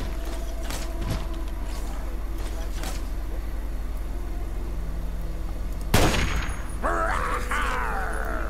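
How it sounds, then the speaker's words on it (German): Gunfire and explosions in the video game Fallout 3: a steady mechanical hum with scattered sharp shots, then a loud blast near six seconds followed by grinding, metallic combat noise. "Überall Explosion, überall Kampf."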